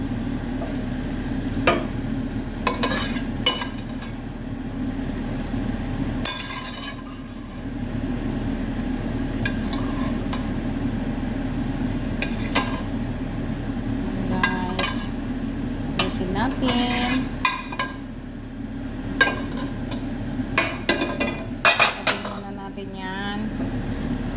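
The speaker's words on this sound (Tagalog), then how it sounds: "Haluin ng maigi." Rice and egg stirred in a pan with a utensil, repeated scraping and clinking against the metal over a low sizzle, close and busy, with occasional speech in between.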